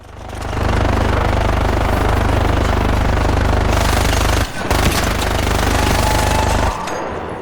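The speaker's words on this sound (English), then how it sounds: "This enemy looks humongous and it shoots out crazy bullets" A huge robotic ARC enemy machine in the ARC Raiders video game firing a continuous loud stream of bullets, sustained rapid gunfire broken by a short gap near the end, with no talking.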